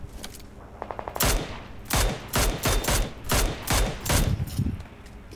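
Rapid AKM and SKS rifle shots ring out in PUBG, a string of sharp, close, loud cracks in quick irregular bursts with brief pauses between them.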